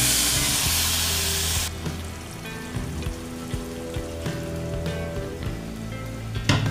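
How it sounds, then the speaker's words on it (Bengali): Hot curry masala in oil hisses loudly as water is poured in, an intense burst of sizzling that drops after a couple of seconds into a steady bubbling fizz with faint stirring clinks. "এবার আমি একটু বেশি করে জল দিয়ে দেব"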